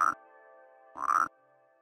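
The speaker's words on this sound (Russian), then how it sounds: "Ты не слышишь, как лягушка делает?" Frog croaks from the puzzle game Rusty Lake: Paradise: two short, raspy croaks about a second apart, clear and close, over a soft sustained tonal hum.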